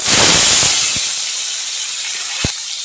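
Bay leaves and potatoes dropped into hot oil sizzle loudly, a bright steady hiss that peaks at the start and eases slightly, with a few faint thumps and no talking.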